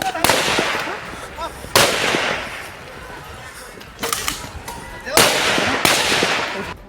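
Police firing shots into the air during a street protest by fans of a singer, with several sharp, loud cracks spaced a second or more apart over a noisy crowd, and talk audible.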